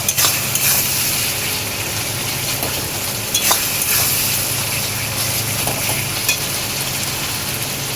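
Chicken masala sizzles loudly and steadily in a pan while being stirred and fried, a dense close hiss with a few sharper scrapes and spatters.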